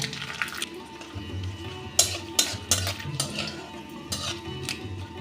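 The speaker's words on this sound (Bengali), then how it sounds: "মশলাগুলো খুব সুন্দর ভাজা হয়ে গেছে" Whole spices, cardamom, cloves, cinnamon, mace and bay leaf, frying in oil while a metal utensil stirs and clinks against the pan, with a few sharp knocks over a low sizzle.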